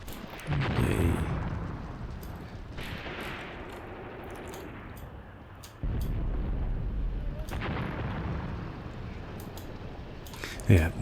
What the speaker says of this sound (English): no point advancing at all until this artillery is well and truly over